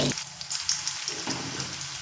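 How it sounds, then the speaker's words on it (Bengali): Crushed garlic and dried red chillies fry in hot oil for a tempering, giving a brisk crackling sizzle with small spattering pops, close and continuous. "দেখুন রসুন আমি এক মিনিট মতো ভেজে নিয়েছি"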